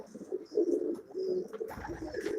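Pigeons kept by a bird keeper coo in low, soft repeated calls, several overlapping murmurs at moderate distance, with faint higher chirps and a brief rustle near the end.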